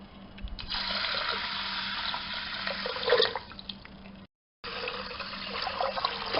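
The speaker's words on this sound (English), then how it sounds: "Now I will add the water." Water pours steadily from a vessel into a pressure cooker holding washed horse gram, a close, continuous splashing gurgle that briefly cuts out before resuming.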